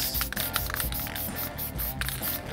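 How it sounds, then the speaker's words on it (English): Satin spray paint hisses from an aerosol can onto a Venom statue body in a workshop, a continuous close spray broken by several short pauses and bursts with faint can clicks. "so we're gonna satin spray down the Venom body"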